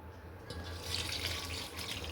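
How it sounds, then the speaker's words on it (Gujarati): About a litre of water pours into soured cream in a pot while homemade desi ghee is being made, a faint, brief, steady trickling splash with no talking. "તો આપણે એમાં પાણી નાખીશું"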